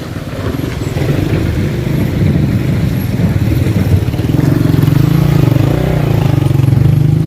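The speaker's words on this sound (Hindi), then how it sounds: "ये जा रही हैं जी गाड़ी।" Vehicles drive past on a mountain road between Babusar Top and Rakaposhi that has been damaged by landslides, a loud, close engine rumble that holds steady and swells slightly in the second half.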